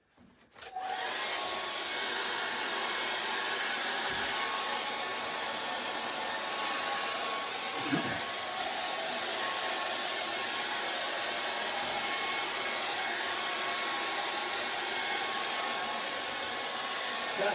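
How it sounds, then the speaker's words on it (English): A hairdryer blows steadily on drippy acrylic paint. It switches on sharply and keeps up a loud, even roar with a faint whine, with one brief low bump partway through. "Use the hairdryer."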